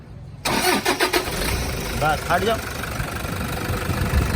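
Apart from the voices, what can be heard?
Toyota Fortuner 2013 manual engine starting and idling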